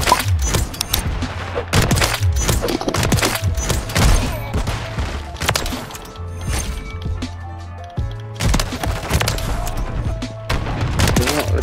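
Longbow sniper rifle fire in Modern Warfare 3 gameplay, heard as a string of sharp, loud shots spaced a second or two apart, mixed with mechanical clicks and clatter between them.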